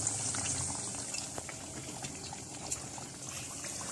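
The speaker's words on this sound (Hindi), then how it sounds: "दोनों साइड से बहुत अच्छी तरह से लाइट गोल्डन कलर में टिक्कियां फ्राई हो चुकी हैं" Sweet tikkis (meethi tikiyan) shallow-frying in hot oil, a steady bubbling sizzle with scattered soft pops, fairly quiet and continuous with no talking.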